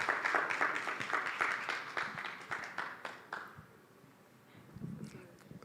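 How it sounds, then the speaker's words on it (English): Audience applause at an EdTech fellowship demo day, a burst of steady clapping from a seated crowd lasting about three and a half seconds, then dying away into quiet room noise and brief talk. "Kindly give a round of applause to him"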